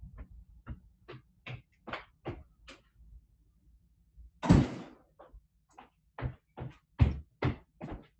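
A run of soft, quiet knocks and clicks is interrupted midway by one louder thud of a door being shut. Light tapping follows afterwards in a quiet room with no talking.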